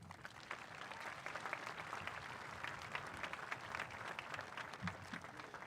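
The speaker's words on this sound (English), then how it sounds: "Please join me in one more round of applause." A crowd at the Newton High School class of 2026 graduation ceremony claps in a sustained, even round of applause, moderately distant and filling the hall without voices on top.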